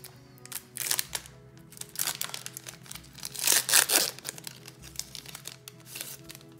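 A Pokémon booster pack's foil wrapper is crinkled and torn open, giving close, irregular bursts of crackling and crumpling that peak in a louder rustle near the middle.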